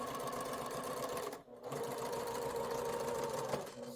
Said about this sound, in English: Okay, so we're going to sew this together.